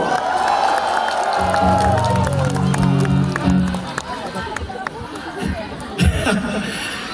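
At a concert in Makassar, a large crowd applauds and cheers for the keyboard player, a dense roar of clapping and shouting under lingering keyboard notes that fade out partway.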